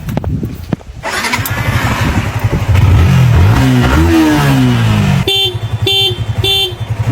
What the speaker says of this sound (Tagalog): Bakit ayaw pa rin umandar nito, Kalbo?